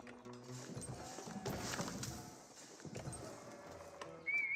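In the Age of Empires 4 video game, a camel gives faint snorting, whinny-like calls mixed with soft hoof clops. Other quiet in-game sounds play around it, and the whole mix stays low in level.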